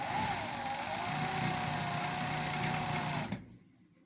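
An overlock machine runs steadily while sewing a picot edge, a continuous close mechanical whir that stops abruptly near the end.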